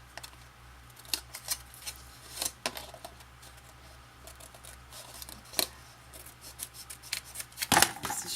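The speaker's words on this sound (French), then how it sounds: "Je vais couper une fine lanière. Il faut le faire à la main." A thin strip of cardboard box covering is cut by hand, heard as a series of soft, sharp snips and clicks at an irregular pace, close and quiet against a low steady hum.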